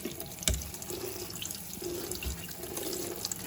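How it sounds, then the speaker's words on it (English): Tap water runs steadily into a sink while fruit is washed under it, a soft continuous splashing stream with a few small knocks and drips. "the first thing we have to do is always wash your fruit"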